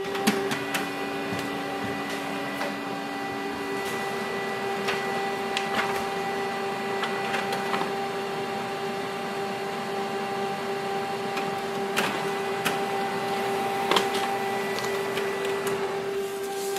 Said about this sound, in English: So this way we can do the copy of ID with this printer